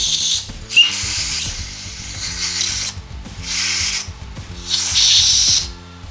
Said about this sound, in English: Now some compressed air.